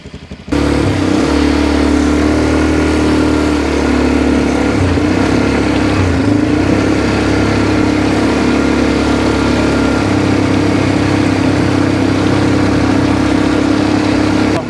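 An ATV quad bike engine runs steadily and loudly throughout, a constant droning rumble with slight load changes as it strains to tow a vehicle with a passenger aboard, no voices.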